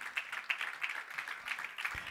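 A church congregation claps in a faint, fairly regular rhythm, with the clapping heard at a distance and no clear speech over it.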